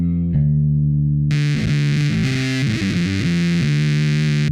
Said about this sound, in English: I always prefer when I click on overdrive or distortion to have a little gain bump in it